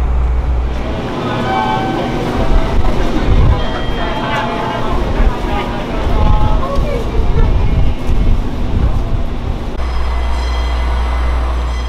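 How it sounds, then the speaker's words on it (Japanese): The 36+3 sightseeing train rumbles steadily along the rails in Kyushu, Japan, with low, continuous rolling noise and occasional faint squeals; a voice is briefly audible over it. "やがて列車は門司港駅に到着します。"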